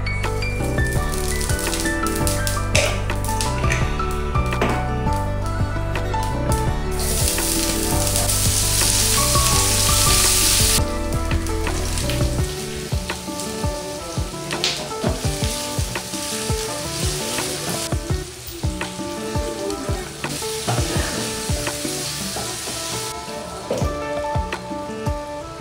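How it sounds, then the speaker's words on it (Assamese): Potatoes fry and get stirred in a pan for a home-cooked puri and aloo bhaji meal, giving a steady, close sizzle with occasional stirring scrapes under background music. "এইফালে মই আলুটো ফ্ৰাই কৰোঁ"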